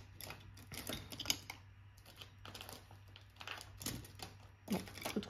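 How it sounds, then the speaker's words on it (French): A paper trimmer slices paper for a scrapbook album, a series of short, close clicks and scraping cuts in irregular rhythm, faint in a quiet room. "Alors, on prend notre massicot,"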